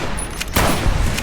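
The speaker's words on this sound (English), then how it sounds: "I'm gonna shoot you from a distance" A single gunshot rings out in modded Fallout: New Vegas, a sharp loud crack with a brief rumbling tail against a noisy wasteland background.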